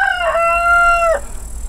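A rooster crows once nearby in a garden, a loud drawn-out cock-a-doodle-doo that stands alone before fading into quiet outdoor background.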